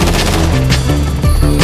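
Loud, dense gunfire fills a GTA 5 firefight, with rapid overlapping shots and bursts like machine-gun fire, constant and close throughout with no break.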